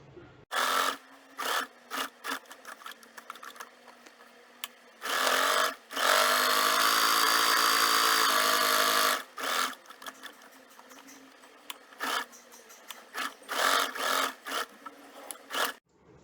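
A home sewing machine top-stitches a men's shirt collar in repeated bursts. The bursts are short and choppy, with one long steady run in the middle. The machine is close and loud, with no voices.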